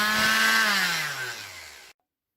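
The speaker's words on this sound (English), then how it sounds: "Time to sand." Power sander working over a wooden desk, a loud steady whir with a falling pitch as it spins down and cuts off after about two seconds.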